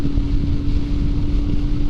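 Royal Enfield Himalayan adventure motorcycle cruising on a highway, a steady loud engine drone with a constant low hum and heavy wind rush across the microphone, continuous throughout with no talking.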